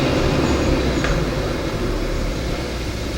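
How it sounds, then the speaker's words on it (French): A car passes by outdoors as a steady, loud rumble of road noise that fades slightly, with no talking over it. "Désolée pour la voiture qui vient de passer, le bruit du coup."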